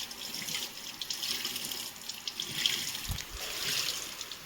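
Water runs steadily from a tap into a sink during washing, a continuous splashing stream with small fluctuating trickles and no voices.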